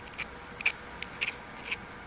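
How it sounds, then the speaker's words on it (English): An X-Acto knife trims small plastic pieces off a hollowed-out marker, giving four short, crisp snipping clicks spaced about half a second apart against a quiet background, close and fairly faint. "with the knife, I'm just going to gently trim off these little"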